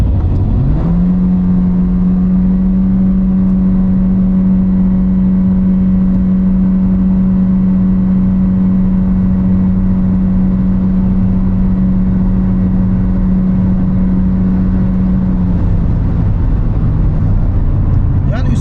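A Toyota Corolla 1.2 turbo running on LPG accelerates in sport mode, heard from inside as a loud steady engine drone holding one pitch for about fifteen seconds before easing off.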